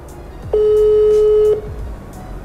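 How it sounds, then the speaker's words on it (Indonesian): A telephone tone sounds during a phone call, one steady, clear beep lasting about a second, loud against quiet room noise. "Ini gue langsung telepon ke distributornya"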